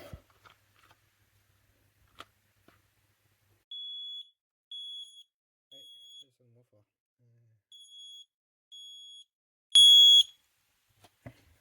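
A QXMH smart smoke detector sounding during a test: a few short piercing beeps in separate bursts, ending in one louder tone, heard close in a quiet room with soft handling clicks and brief speech.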